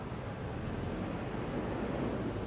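Resort waterfall splashing steadily at D'Resort in Singapore, a continuous broadband rush of falling water with no breaks, moderately loud and close, with no voices over it.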